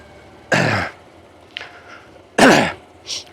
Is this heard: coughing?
yes